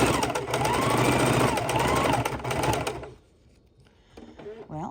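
A sewing machine stitches a mixed-media paper junk journal cover in a fast, steady mechanical run lasting about three seconds, then stops abruptly, leaving quiet room tone and a few soft handling sounds.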